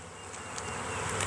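Honey bees hum steadily from an open hive during an inspection, a dense, close buzzing swarm sound, fairly quiet and continuous.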